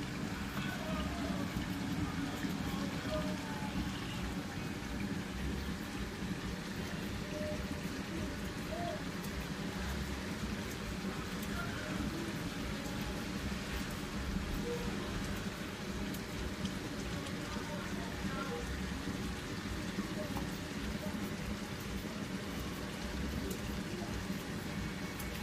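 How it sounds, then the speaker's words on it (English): Steady rain falling outdoors, an even hiss of drops that holds at a constant moderate level for the whole stretch, with no other distinct sounds standing out. "But there is rain"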